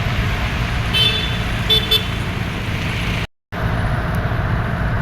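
Peak-hour road traffic on an expressway along a coastal road, a steady roar of passing vehicles with two short horn toots near the start, the flow dropping out for a moment partway through.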